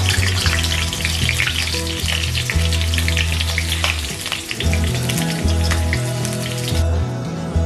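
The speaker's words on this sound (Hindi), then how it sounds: "अब इसी तरीके से मैंने जो हरी मिर्च और कड़ी पत्ता लिया था इसको भी फ्राई कर लेता हूँ मैं" Green chillies and curry leaves frying in hot oil, a loud dense crackling sizzle with popping bursts close by, over a low steady hum.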